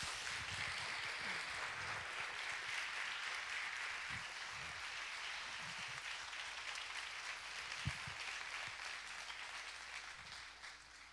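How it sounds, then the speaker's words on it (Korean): A church congregation at a Wednesday worship service claps warmly and continuously for a pastor coming forward, soft and somewhat distant, with a few louder claps standing out before it fades at the end. "우리 박수하겠습니다."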